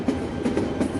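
Meghna Express train running in a Bangladesh train simulator game, a steady rolling rumble with rhythmic clickety-clack of wheels on rails, continuous and close.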